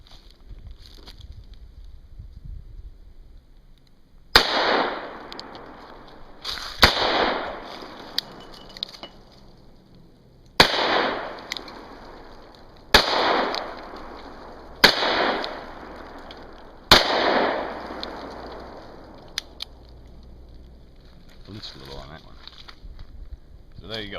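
EAA Windicator revolver firing six .38 Special rounds at a range, sharp loud reports spaced a couple of seconds apart, each trailing off quickly, over a low background of wind.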